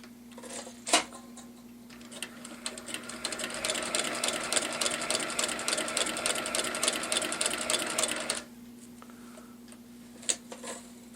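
Sewing machine stitching rows of stitches, a rapid steady mechanical chatter running for about six seconds, framed by single clunks before and after and a constant motor hum, with no talk.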